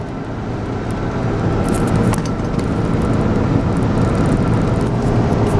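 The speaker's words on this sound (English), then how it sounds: "Whenever you hear this tow truck" Tow truck engine running at a steady idle, a continuous loud low rumble with no pauses, close by and alone without speech.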